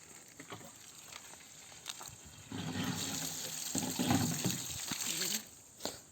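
Water runs from a storage tank into jars on a Konkan farm, filling them to carry to the cattle shed: a soft trickle first, then a louder, steady gushing rush for a few seconds before it cuts off.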